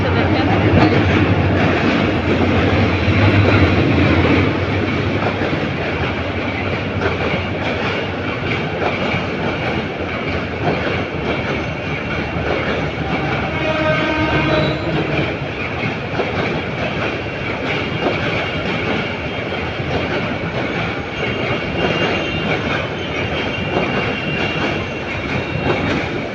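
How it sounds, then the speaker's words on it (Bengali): A train rolls past near a park in Dhaka, a loud continuous rumble with rhythmic clickety-clack of wheels on rails, steady throughout with faint voices underneath. "সরি ট্রেন এদিক দিয়ে আসছে।"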